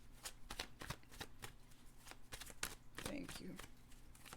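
A deck of tarot cards is shuffled by hand in quick riffling bursts during a reading, close and crisp, with a voice briefly speaking near the end.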